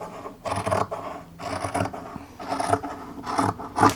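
Scissors cut through bed-sheet fabric in about five rhythmic snipping, rasping strokes with short gaps between them, close and clear, with no talk.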